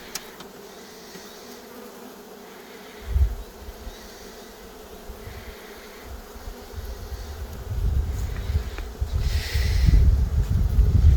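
Honey bees buzz around a spring hive in eastern Poland as foragers return with pollen, a soft, steady drone that swells and grows busier toward the end, with occasional louder passes close by.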